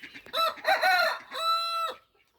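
Nearby chickens cluck, then a rooster crows loudly in a rising, drawn-out call before the sound fades out.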